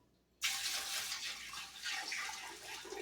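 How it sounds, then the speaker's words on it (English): Cold water pours suddenly and steadily into a turkey brine in a kitchen, a close, continuous splashing gush that starts abruptly after a brief quiet moment. "I'm just going to add some cold water to it just to make sure that everything is nicely submerged"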